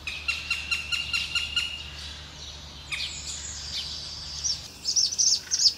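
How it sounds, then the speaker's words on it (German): A barn owl gives several sharp, high calls in a quick series, then more scattered calls near the end, loud and close above a quiet, hissing night-garden background. "Darauf hat die Schleiereule gewartet."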